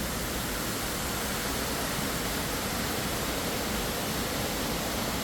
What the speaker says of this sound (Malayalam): ഇപ്പോൾ ഇവിടെ വെള്ളം, ഈ ഒലിച്ചു പോകുന്ന വെള്ളം